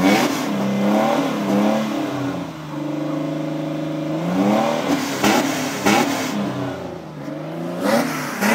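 A 2006 Kia Sorento LX engine revs repeatedly against the rev limiter, loud and close, rising and bouncing in pitch with one sustained held rev in the middle.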